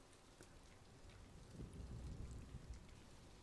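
Steady rain in the Planet Zoo video game, a soft continuous hiss of drops on surfaces with a low rumble swelling midway through, heard faintly with no voices.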